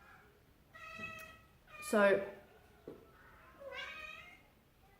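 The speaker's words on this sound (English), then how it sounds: "the cat's talking to me at the moment" A pet cat named Squeaky meows several times in a chatty, rising and falling way, close by, with a person's brief spoken word mixed in among the calls.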